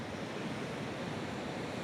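Ocean waves wash over the rocks and tide pools of a Lanzarote shoreline, a steady broad roar of surf with no breaks and no voices.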